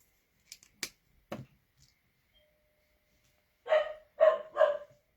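A dog indoors at home gives three quick barks near the end, after a few scattered clicks and taps in a quiet room.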